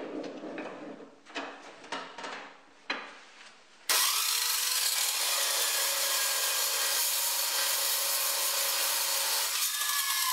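A few scraping, rubbing sounds come first, then a power saw starts abruptly and cuts small steel filler pieces for homemade F-clamps, producing a loud, steady, continuous whine that holds for several seconds.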